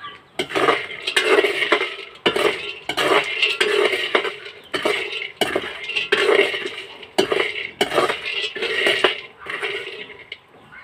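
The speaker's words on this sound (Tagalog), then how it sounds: "Kailangan hindi hihinto sa paghalo guys para hindi masunog." A utensil stirs food in a cooking pan nonstop, producing rhythmic scraping and clinking strokes that repeat roughly every second, close and fairly loud.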